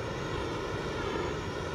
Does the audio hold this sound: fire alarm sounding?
no